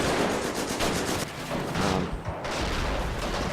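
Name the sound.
mortar fire in Company of Heroes video game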